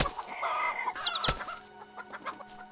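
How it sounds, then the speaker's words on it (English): Several chickens cluck and chatter in a busy scene in the video game Garden Paws, with a sharp click partway through and bright chiming sounds layered in. "Oh no, happy little chickens."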